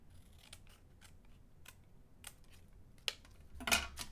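Scissors trim a paper card panel for a Halloween card, giving a series of quiet, crisp snips spaced irregularly over a few seconds, with a slightly louder cut near the end.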